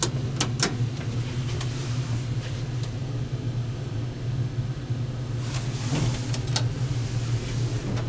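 A 1969 Otis black button traction elevator at the Buffalo & Erie County Public Library descends with a steady low motor hum and constant rumble throughout, broken by a few faint clicks and relay ticks near the start and again toward the end.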